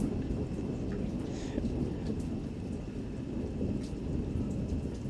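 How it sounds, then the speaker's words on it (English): Steady rain pours down in a dense, constant hiss, with a low rumble of thunder underneath, heard from indoors at moderate volume. "it's raining right now"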